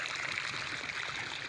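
Irrigation water flows steadily into a pointed gourd field, a soft continuous rushing and trickling that stays faint and even throughout.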